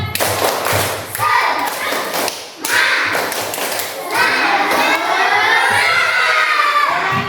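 A class of children does the rhythmic "tepuk semangat" clapping chant, with loud patterned claps and thumps mixed with shouting and chanting voices, close and energetic throughout.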